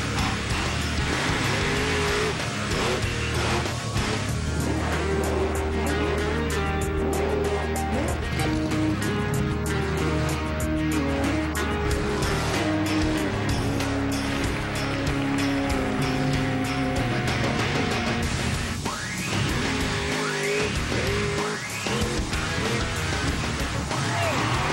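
Bigfoot 16 monster truck on its first competition test, fresh from the shop, gives a dense, continuous engine roar with churning mechanical noise that stays loud throughout.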